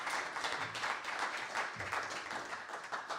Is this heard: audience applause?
yes